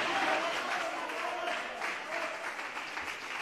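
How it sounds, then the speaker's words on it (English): Studio audience applauding on a televised talent show, a steady wash of clapping with some cheering voices mixed in, moderately loud and continuous throughout. "A round of applause for Leo."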